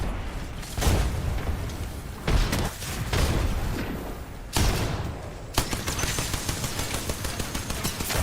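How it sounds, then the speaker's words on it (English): Grenades go off in a battle royale video game: several sharp, heavy blasts land a second or two apart amid a dense wash of crackling gunfire and rumble. "Nades coming out."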